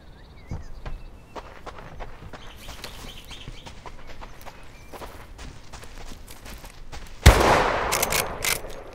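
A single sharp, loud gunshot in the survival shooter Deadside cracks close by near the end, after a stretch of quiet footsteps and faint rustling, leaving a brief ringing tail.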